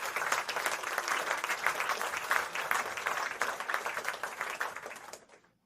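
Dense applause from a small group keeps up at a constant level for several seconds, then fades quickly to silence.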